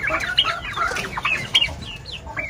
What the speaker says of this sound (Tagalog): may mga manok dito at saka pabo na may sipon pa,